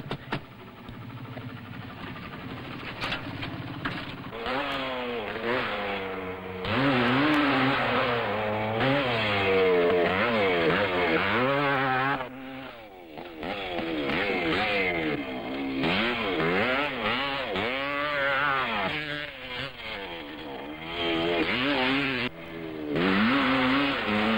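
A trials motorcycle's engine is blipped on and off with the throttle while the machine is carried down a step, rising and falling in repeated revs close by, with no talk.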